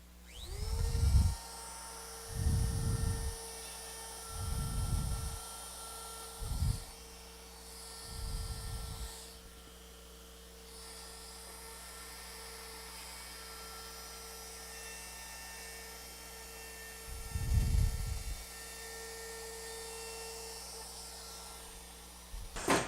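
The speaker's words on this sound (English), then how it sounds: "you could take another router, like I've got a little straight cutter in here, straight bearing, and I'm going to try this just to skim that little section" A router with a straight bearing cutter skims ebony edge binding, its high steady whine running throughout, with several short louder cutting bursts in the first half and another near the end.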